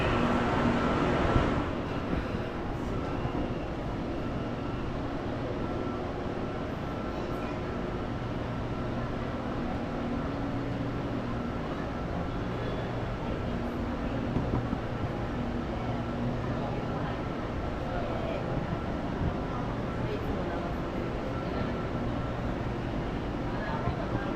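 A Bangkok BTS Skytrain rumbles steadily through an elevated station, a continuous low mechanical roar and rattle lasting throughout, with no voices.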